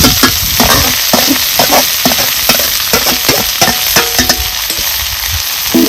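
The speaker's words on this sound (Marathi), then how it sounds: "चांगली एकजीव करून परतून घ्यायची" Giloy leaf vegetable is stir-fried with cumin in a pan, producing a loud, close, continuous sizzle broken by quick, repeated scraping and tossing strokes throughout.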